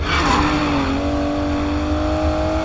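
An Aston Martin DB11 in Need for Speed Payback gives a loud, close engine note that sweeps down in pitch and then settles into a steady hum, with no talking.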